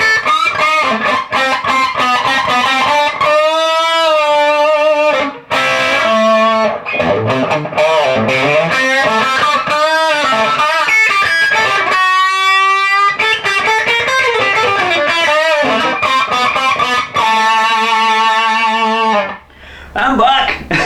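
An electric guitar played through a Laney Ironheart IRT Studio amplifier with its boost engaged rings out loud and overdriven, sustained notes and bent lines with brief gaps between phrases.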